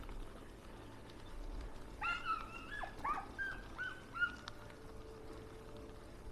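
Dogs swimming in a coastal inlet in New Zealand let out a few harsh, strained whining cries in a short cluster, moderately close, over steady low background rumble.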